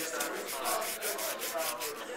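Steady hand sanding along the edges of a wooden bottle holder, a close, continuous scratchy rubbing in quick back-and-forth strokes with no pauses.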